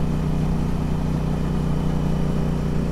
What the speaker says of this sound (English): Your engine sounds so smooth.